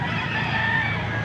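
Chickens and roosters at a poultry market in Angeles, Pampanga cluck and crow together in a dense, continuous din, with a faint murmur of voices mixed in.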